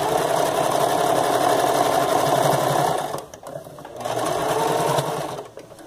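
Sewing machine stitching a patchwork ruffled skirt, running steadily for about three seconds, pausing briefly, then whirring again before stopping, close and loud.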